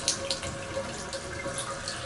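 Bathtub faucet running at full pressure, a steady rush of water pouring into the tub, close and continuous without a break.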